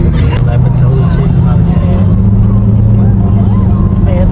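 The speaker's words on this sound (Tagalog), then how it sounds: "Ayan, traffic na dito yung ganyan guys." Cars pass along a congested street in the Philippines, a loud continuous engine rumble with vehicles droning by close to the listener, with background chatter and voices mixed into the traffic noise.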